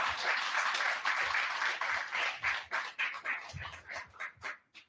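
Audience applause at an evening Korean political forum event greeting a lawyer and author, a steady dense clapping that breaks into uneven, thinning bursts before dying out.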